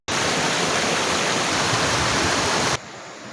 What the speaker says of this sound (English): We have to cross this river.